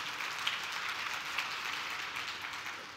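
Audience applause fills the room at an accessibility certification announcement during a software product presentation, a steady wash of clapping hands throughout with no talking.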